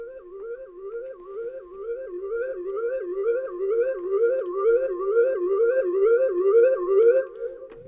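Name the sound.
synth arpeggiator sound in an electronic track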